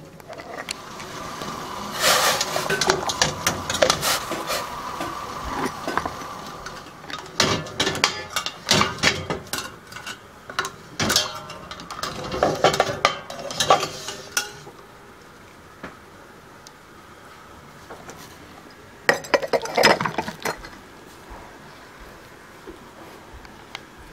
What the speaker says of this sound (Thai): เดี๋ยวก็จะเอาโถแก้วนะคะลงไปลวกในนี ้ก็แค่แบบเหมือนแบบเอาน้ำลาดผ่านผ่านนะคะบางทีก็จุ่มลงไปค่ะ